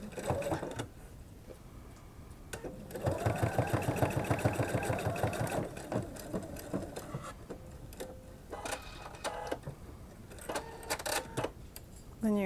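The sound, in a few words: sewing machine stitching fabric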